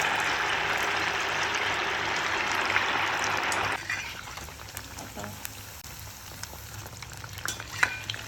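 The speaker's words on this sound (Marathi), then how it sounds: "आता आपण तळून घेऊया सोनेरी रंगावर" Sabudana vada dropped into hot oil for deep frying, a loud steady sizzle for several seconds that then drops to a quieter crackle and bubbling.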